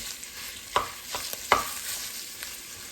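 Sausage browning in a pan on the stove, a steady soft sizzle broken by a handful of scraping stirs from a utensil, fairly quiet and close with no voices.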